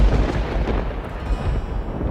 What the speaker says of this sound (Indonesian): Pada suatu malam, hujan badai datang. Petir menyambar-nyambar.